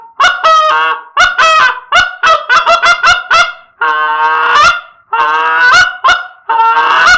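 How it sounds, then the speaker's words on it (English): Loud, close Quaker Boy Wingmaster goose call blown in a rapid series of sharp honks, then longer drawn-out calls, with short pauses between bursts. "Quaker boy, Wingmaster Goose Call."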